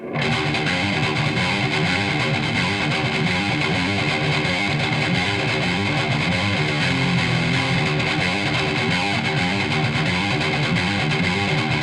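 Electric guitar played through a Dark Triad overdrive/distortion pedal with the mids cranked. The thick, saturated chords ring loud and sustained without a break, with no voices.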